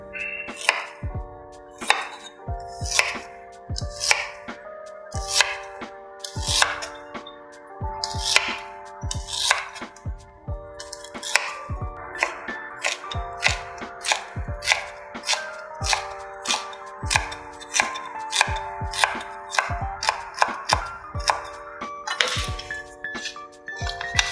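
Ginger being chopped on a cutting board with a knife, sharp repeated chops in quick irregular bursts, close and crisp, continuing steadily with brief pauses and no speech.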